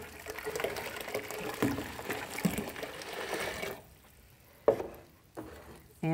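An archaeological soil sample is poured into a bucket of water for flotation, a soft splashing, gurgling pour that fades after a few seconds, followed by a couple of sharp knocks and a brief scrape.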